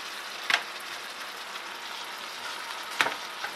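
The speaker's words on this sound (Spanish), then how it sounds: "Ya estoy calentando la carne molida que hice, guisada." Homemade stewed ground beef with peppers, tomato and onion reheating in a pan, a soft continuous sizzle with two sharp spatula clicks.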